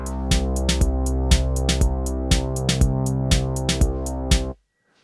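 Drum track on a Synthstrom Deluge plays with a sustained synth bass: steady kicks and sharp hi-hat and snare ticks repeat in a regular groove over the bass, then everything stops abruptly near the end.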